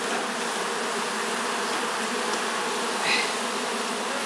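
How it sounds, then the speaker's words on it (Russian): Honey bees buzz steadily in a dense swarm at an apiary hive in Altai, prepared for winter with sealed combs, a continuous close, even hum with no talking. "Сейчас будем пчел убирать."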